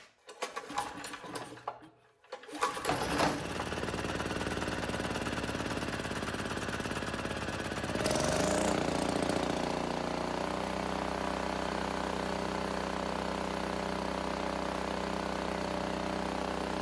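An ETQ-200 generator with a freshly cleaned carburetor gets a few choppy pull-start attempts, then catches and settles into a steady, loud running drone, with a brief rise in pitch partway through.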